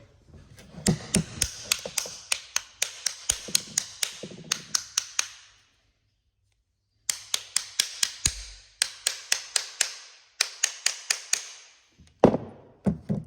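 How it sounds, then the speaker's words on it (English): A Land Rover Discovery V8 interior part being struck: rapid runs of sharp, close tapping knocks in several bursts, separated by a brief silence, with a heavier thump near the end. "sometimes just give them a bit of a fucking whack or something"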